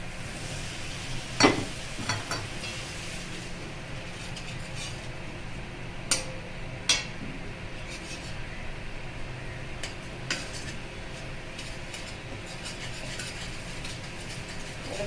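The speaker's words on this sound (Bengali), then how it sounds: "এবার মশলাগুলো একটু ভাজবো।" Spices frying in a pan for a home-style winter vegetable dish of cauliflower, potato and peas, heard as a low continuous sizzle with a few scattered sharp clinks and scrapes of stirring.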